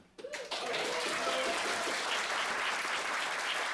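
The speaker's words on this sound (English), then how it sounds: "You can applaud them, too" Audience applause at an evening family music concert, breaking out after a brief moment and quickly swelling into a full, steady wash of clapping that holds to the end.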